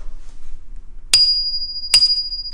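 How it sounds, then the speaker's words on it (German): Bell mounted on the brake lever of a 2017 Brompton Black Edition folding bike, struck twice about a second apart, each a sharp close ding with a long, clear ringing tail. "es ist hier oben noch die Klingel mit an dem"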